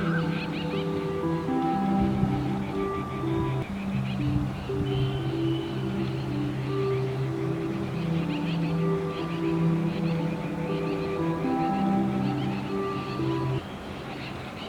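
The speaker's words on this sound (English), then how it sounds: "Birds leave for their roosting places in flocks." Flocks of birds call together in winter in India on their way to roost, a dense, continuous chorus of honking, overlapping voices that stays loud throughout.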